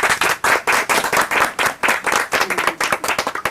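A small group of people claps for a family gathered at home, close, loud and uneven hand claps in bursts with short pauses between them.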